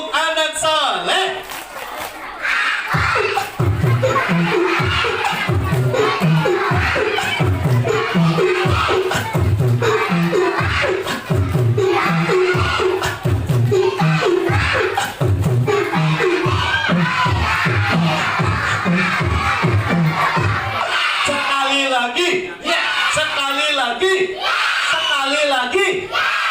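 At a kindergarten graduation and class-promotion celebration, a group of children shouts the tepuk anak soleh chant in loud rhythmic bursts with clapping, led by an adult voice, continuing steadily throughout.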